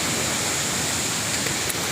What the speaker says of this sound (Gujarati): આ ધોધનું નામ છે તનવન ધોધ